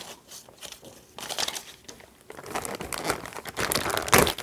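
Plastic packaging on an air purifier filter being opened by hand, with crinkling and rustling that starts faint and sporadic and then grows louder and denser, close to the microphone with no talk.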